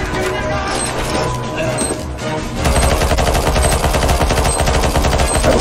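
Loud, rapid automatic gunfire from a video game on the ze_ep2_plant_b1 map rattles in dense continuous bursts that grow heavier midway, with faint voices mixed underneath.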